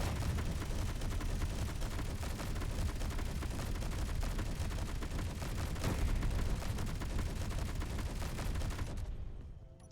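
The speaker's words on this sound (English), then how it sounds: "the chest-mounted autocannons, and I want to say these were the assault cannon" Chest-mounted autocannons in Space Engineers unleash a dense, continuous barrage of rapid gunfire, loud and close, with overlapping booming shots for about nine seconds before cutting off abruptly.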